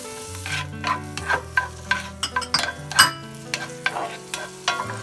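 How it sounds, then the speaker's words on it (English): Onions and garlic sauté in a pan for a venison deer heart dish, a steady close sizzle broken by several sharp clacks and scrapes of a spoon stirring against the pan. "So I'm gonna let this saute for about 3 minutes until the onions is translucent"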